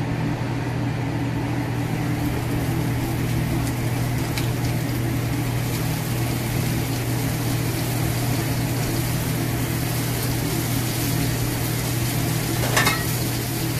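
Veal saltimbocca sears in a very hot, oil-slicked pan, giving a steady, loud sizzle that runs unbroken throughout with no talking.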